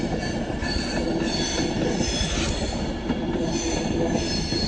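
A Pendolino electric train, unit 39122, rolls steadily past a station at Primrose Hill in London, a loud continuous rumble of wheels and rails with high metallic squeal tones running throughout.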